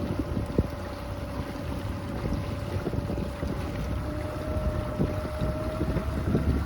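Mercury Pro Kicker outboard motor running on a Lund Fisherman boat, a steady close engine drone with a faint constant whine over wind and water noise.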